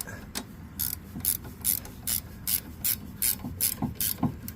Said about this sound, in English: get your 5/8 ratchet and then just start cranking away on this bad boy